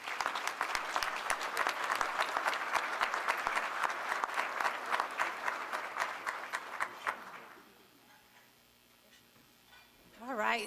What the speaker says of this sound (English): Once again, a round of applause for all of our award recipients.